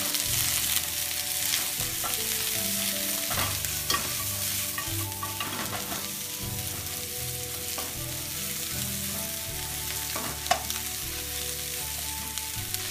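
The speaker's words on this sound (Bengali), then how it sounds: "তেল দিয়ে আমরা ভেজিটেবলটাকে ভাজি করে নিব, একই সঙ্গে কাঁচামরিচ দিয়ে দিব" Vegetables and green chili fry in a little oil for Sri Lankan kottu, producing a continuous sizzle with stirring clatter, while steady background music plays underneath throughout.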